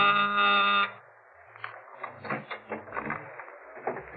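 An apartment door buzzer in a 1949 radio drama gives one loud, steady electric buzz lasting about a second, then cuts off, followed by faint bumps and footsteps.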